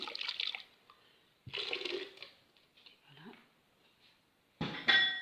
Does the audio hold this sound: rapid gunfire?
no